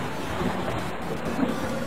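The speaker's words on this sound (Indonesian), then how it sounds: "Lalu turunlah hujan tersebut sampai ke bumi." Steady, dense rain falls with a low thunder rumble in the background, a continuous loud wash with no voices.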